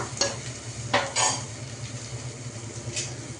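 Goat head meat stirs in a hot pan with a steady close sizzle. Sharp metal scrapes of a spoon against the pan recur every second or so, and no one speaks.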